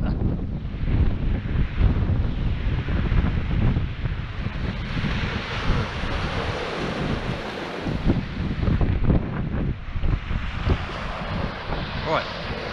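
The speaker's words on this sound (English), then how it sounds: "Watch these gusts of winds" Gusty wind batters the microphone in heavy, surging bursts over the low wash of surf on a beach, loud and continuous throughout.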